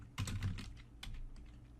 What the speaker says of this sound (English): we're going to type the following